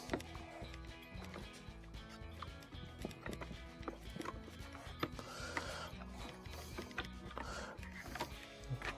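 Quarter-inch screw being backed out of a refrigerator panel, steady mechanical ratcheting clicks in a continuous rhythm over a busy, dense background, close and moderately loud.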